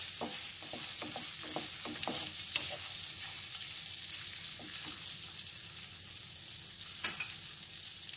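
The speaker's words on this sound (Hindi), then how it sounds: "पहले मैं इसमें हरी मिर्च डालूंगी, इनको थोड़ा सा भून लूंगी।" Green chillies and ginger pieces frying in a pan for a karonda and green chilli pickle, a soft steady sizzle with light stirring scrapes early on, moderately quiet and without voices.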